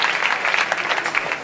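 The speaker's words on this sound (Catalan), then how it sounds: "i s'han de dur un fort aplaudiment" Crowd applause at a 15M movement general assembly in Terrassa, honouring the logistics commission: dense, steady clapping from a large gathering, fairly loud and continuous throughout, with no voices standing out.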